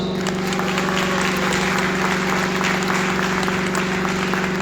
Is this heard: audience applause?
yes